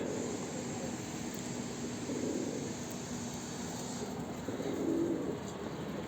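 Pigeons coo softly and steadily in a loft, a low continuous murmur over a constant background hiss, with a slightly fuller swell near the end.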